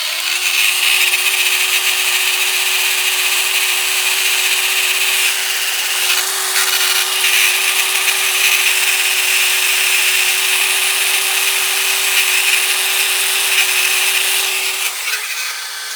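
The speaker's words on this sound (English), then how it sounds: "put this heat shrink on here, and then I got a heat gun" A heat gun blowing hot air to shrink heat shrink tubing on a wiring joint of a Cub Cadet mower, a loud continuous whooshing blower with a steady tone that cuts off at the end.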